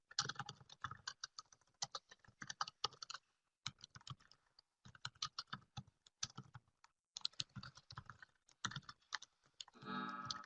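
Someone types on a computer keyboard in bursts of rapid clicking keystrokes with short pauses between runs, fairly close and clear, with no talking.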